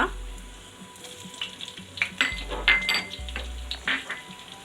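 Cumin, mustard seeds, urad dal and fenugreek hit hot oil for a Kerala sambar, giving a steady sizzle with scattered pops and light clinks of a utensil against the pan, close and moderately loud.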